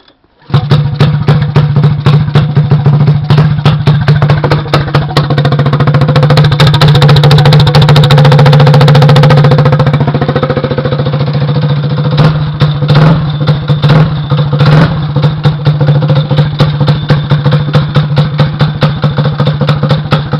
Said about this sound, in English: It does kind of have a hairy idle because of the cam.